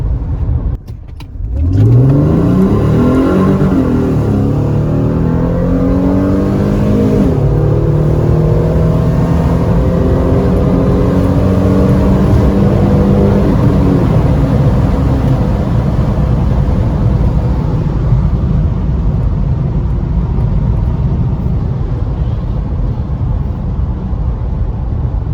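Supercharged Mercedes C32 AMG on a 65mm titanium pulley accelerating hard, a loud close engine note climbing steeply through several gear pulls with supercharger whine, then a sustained high-revving drone tapering off; no talking.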